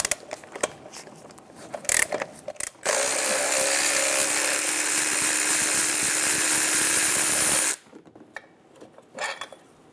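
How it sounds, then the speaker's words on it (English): A power tool loosens the bottom left transmission bracket bolt on a 2008-2017 Buick Enclave 3.6L V6: a loud, continuous whirring burst of about five seconds, framed by clanks and metallic handling noises. "Remove the bottom left transmission bracket bolt."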